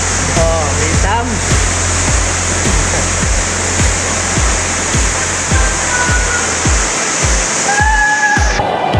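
A waterfall roars steadily at an adventure park, a loud, unbroken rush of falling water filling the whole scene, with faint voices mixed in.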